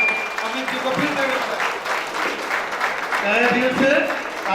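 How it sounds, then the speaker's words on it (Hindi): Applause fills the hall at a paint company's annual award ceremony, a steady crowd clapping that swells toward the end, with voices talking over it. "सबकी एक बार जोरदार तालियों"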